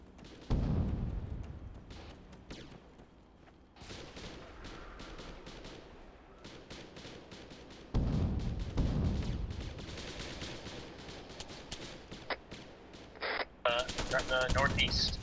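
Machine gun fire in the military shooter Arma 3 during a zombie night mission, with repeated bursts and scattered shots near and far through the stretch, some heavy volleys, under occasional voices.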